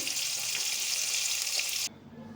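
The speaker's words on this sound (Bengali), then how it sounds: "মাছটা ভেজে নিচ্ছি।" Fish frying in a pan gives a loud, steady hiss of sizzling oil that cuts off abruptly near the end, leaving a quiet low background.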